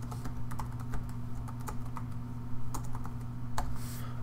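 A computer keyboard being typed on in a quick, irregular run of soft clicks over a steady low hum, fairly quiet and without speech.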